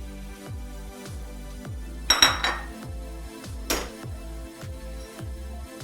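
Dishes and cutlery clink as a serving plate is handled while vegetable korma in a white gravy is plated, a couple of sharp clatters near the middle over a steady, rhythmic low background hum.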